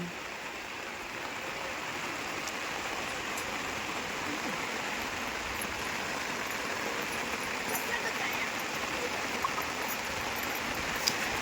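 Heavy rain falls across a waterlogged farm field with water flowing, a constant soft hiss of rainfall and running water, fairly distant and even throughout.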